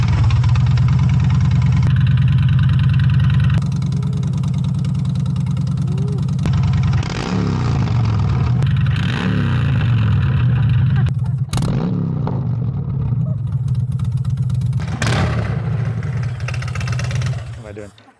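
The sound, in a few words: Honda Fury motorcycle engine with 2-into-1 exhaust running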